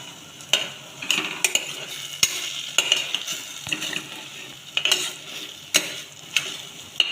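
Millet with turmeric, chili and salt is stirred in a pot, sharp spoon knocks and scrapes landing every second or so over a soft sizzle, close and distinct.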